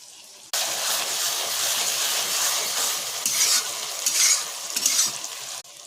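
Onion paste with ginger-garlic paste hitting hot oil in a pan over a wood fire, a sudden loud sizzle that starts abruptly and holds steady with a few stirring swells before cutting off.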